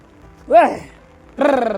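A goat bleats twice in windy monsoon weather: a short rising-and-falling call, then a longer wavering bleat a moment later. Both calls are fairly close and clear over a low background.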